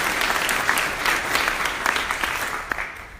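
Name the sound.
audience applause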